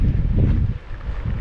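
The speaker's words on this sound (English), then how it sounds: "It's windy, I'm sure you can hear that" Cold wind blows on a hiking trail, gusting hard and buffeting the microphone with loud low rumbling that dips briefly then swells again.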